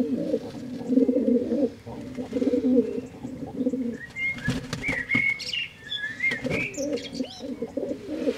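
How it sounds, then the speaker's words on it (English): A dove that is half racing pigeon coos in low repeated throaty phrases, then wings flap and clatter nearby with a few chirps, no talk. "So that dove is like half racing pigeon,"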